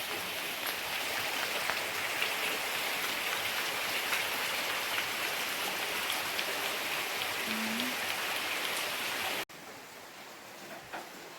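Heavy monsoon rain pours in a steady, dense roar, with a storm wind blowing and the power out; the downpour stays loud and unbroken, then drops suddenly to a quieter hiss near the end.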